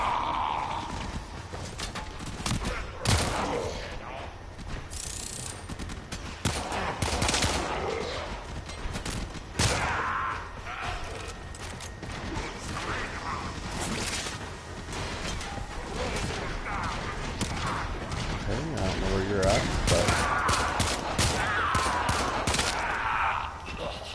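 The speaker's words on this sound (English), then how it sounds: "Where are you shooting me from?" Dense bursts of gunfire from the Warframe video game, rapid overlapping shots and impacts rattling almost nonstop and loud for the whole stretch, with occasional faint voice sounds mixed in.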